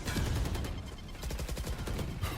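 Rapid automatic gunfire sprays from a weapon in a Valorant esports match, VCT APAC DRX versus GE, with dense repeated shots running steadily and loud through the whole moment.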